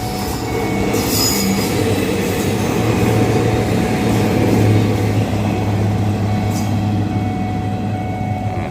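A passenger train rumbles steadily past close by in Phetchaburi, Thailand, with wheels clattering on the rails and a thin metallic squeal running through, continuous and loud throughout.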